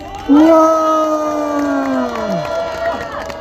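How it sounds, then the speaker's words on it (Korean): A crowd at an outdoor peace rally at the Sangnam fountain plaza in Changwon lets out a loud, sustained collective shout that holds for about two seconds before trailing off into lingering cheering. "참가하신 여러분들의 힘찬 함성으로 시작하겠습니다"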